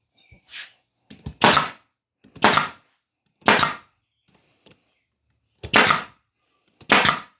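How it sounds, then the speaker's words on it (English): Staple gun driving staples through a new seat cover on a Club Car DS golf cart, six sharp, loud snapping bangs spaced about a second apart, each preceded by faint handling noise. "I'm putting a staple where there's already a staple"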